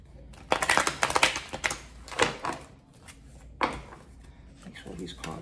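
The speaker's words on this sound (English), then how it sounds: "Make sure these cards are super mixed up." A deck of tarot cards being shuffled up close, with several bursts of riffling and flicking separated by brief pauses and soft handling.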